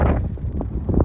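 Strong wind buffets a microphone outdoors in a brief, loud, low rumbling gust that lasts about a second.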